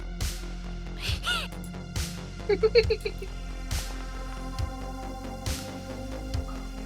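A person mimics a crow during a Pathfinder 2e tabletop game session, giving a quick run of about four rasping caws, fairly loud and close, over a steady background music bed.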